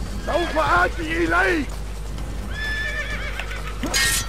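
In an Assassin's Creed game, a horse whinnies loudly twice with a clip-clop of hooves underneath, and a second shorter neigh follows after a brief lull; no talking is heard.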